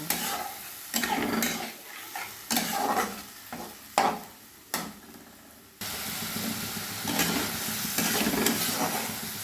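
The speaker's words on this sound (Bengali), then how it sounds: "এবার মিনিট দুয়ের সময় ধরে আমি মশলাটা কষে নেব" Spice paste, loosened with a little water, is stir-fried in a pan for a Bengali-style fish curry. Intermittent scraping stirs ride over sizzling that settles into a steady, loud fry.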